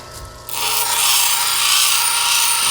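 Soft agate held against an 80 grit grinding wheel, a steady bright abrasive rasp that starts abruptly after a brief quiet moment and holds loud and even to the end, with no voices.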